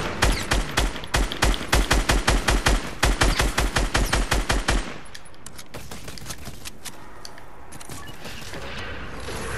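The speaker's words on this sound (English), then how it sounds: "Gunfire down below." Rapid bursts of automatic gunfire in a video game rattle loudly for about five seconds, then give way to scattered distant shots and a dense rumbling background of battle noise.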